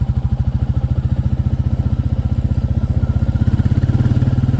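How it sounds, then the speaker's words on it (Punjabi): A motorcycle engine runs close by with a loud, steady, rapid thumping beat, like an idle, while riding along dirt tracks beside expressway construction. No voices are heard. "ਐਨੇ ਹੀ ਸੁਣ ਲਓ ਮੇਰੇ ਮੋਟਰਸਾਈਕਲ ਦੀ ਆਵਾਜ਼"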